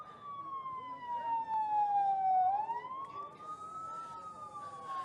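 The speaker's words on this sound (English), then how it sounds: "Here is an ambulance full of children." An ambulance siren wails near a hospital amid war casualties, one long gliding tone that falls and then rises again, loud and steady over faint background noise.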